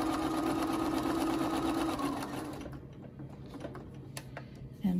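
A sewing machine fitted with a walking foot stitches through a crochet panel bag, running steadily and close for about two seconds before slowing and stopping, followed by quieter mechanical clicks and a short final whir.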